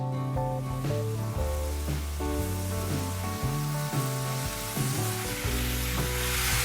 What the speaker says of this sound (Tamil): இப்போ நான் வெங்காயம் கேரட் ஒரு வதக்கிட்டு